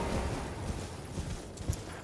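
A horse gallops in the Elden Ring video game, its quick, steady clip-clop hoofbeats rolling on continuously and fairly faint for about two seconds.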